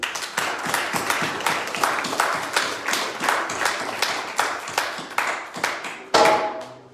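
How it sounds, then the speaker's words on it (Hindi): A congregation at a Christmas Eve church service claps in welcome, steady sharp hand claps from a modest group with a loose rhythm, ending in one louder strike and a brief ringing tone. "तालियां दे नाल वेलकम करेंगे"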